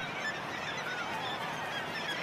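A dense colony of kittiwakes calls at once, with many overlapping shrill cries blending into a steady, fairly faint chorus.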